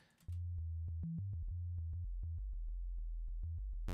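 Sub bass synth track from a music production session, a deep sustained low tone holding steady with short stepping pitch changes and faint clicky transients over it, alone and fairly loud.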